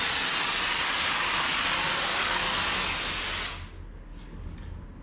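A can of spray foam hisses loudly as it sprays into a wall cavity, then cuts off abruptly and leaves a few weaker sputters as the can runs nearly empty.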